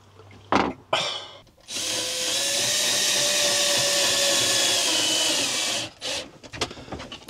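Power screwdriver driving screws into a Dometic ACC 3100 ventilation unit, with two short bursts and then a steady whirring run of about four seconds, close and loud, followed by brief handling noises.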